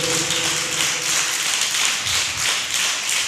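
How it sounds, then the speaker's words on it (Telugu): A church congregation claps hands together in a fast, dense, continuous patter, loud and close, with an undercurrent of voices. "గట్టిగా దేవుడికి చప్పట్లు కొట్టండి"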